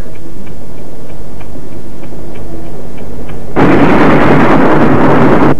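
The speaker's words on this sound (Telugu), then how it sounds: "ఈ పెట్టె కింద నుంచి ఏదో శబ్దం వినిపిస్తుంది. ఏమిటి మరి? టైం బాంబు శబ్దం లాగుంది." A time bomb in a Telugu film scene ticks in a slow, even beat, then a loud roaring burst like an explosion takes over for the last two seconds.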